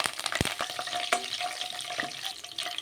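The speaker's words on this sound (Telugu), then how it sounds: "కొద్దిగా ఆవాలు వేసుకుందాం కొద్దిగా జీలకర్ర వేసుకుందాం నాలుగైదు ఎల్లుల్లి రెమ్లో మీకు ఇష్టపడితే వేసుకోవచ్చు లేకపోతే లేదు రెండు కరివేపాకు రెమ్లో" Mustard seeds, cumin, garlic and curry leaves sizzle hard in hot oil, a dense crackling spatter with a few sharp pops and clinks, close and continuous without speech.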